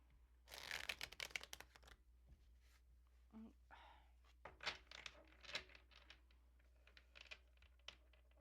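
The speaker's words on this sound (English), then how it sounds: "One more shuffle." A deck of tarot cards is shuffled close up in a quiet room, with faint bursts of riffling and soft card snaps in an irregular rhythm, plus a few small handling noises.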